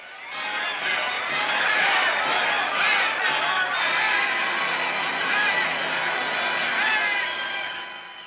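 A crowd pressed at the gates of the Japanese Premier's home while police try to push it back, a loud, continuous jumble of shouting and chatter with scattered raised voices throughout.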